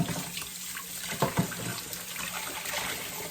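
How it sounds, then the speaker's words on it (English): Tap water runs steadily into a sink while hands rub and splash under it, soft and close. "Wash my hands again."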